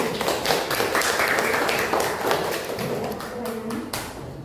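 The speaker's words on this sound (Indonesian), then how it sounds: "Boleh ini tepuk tangan untuk semuanya" Students in a classroom clapping for their classmates, a loose scatter of individual claps with some taps and thumps mixed in, fairly close and fading slightly toward the end.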